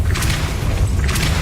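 The Depulso spell is cast in the Hogwarts Legacy video game, making deep booming blasts with airy whooshing bursts, two in quick succession.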